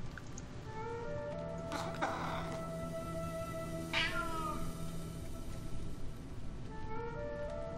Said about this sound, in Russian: Какой-то неприятный кот.